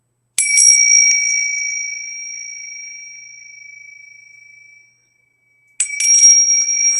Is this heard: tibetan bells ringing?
yes